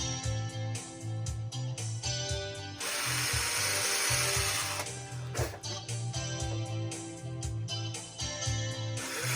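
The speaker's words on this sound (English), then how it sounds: "Let's just drill them all." A power tool whirs and ratchets in short repeated bursts, with a longer continuous grinding stretch in the middle, loud and close.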